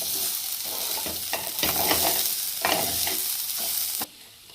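Cooked jackfruit seeds stirred and fried in a pan with Mysore spinach, close rhythmic scraping and tossing over a steady sizzle, then stopping abruptly near the end.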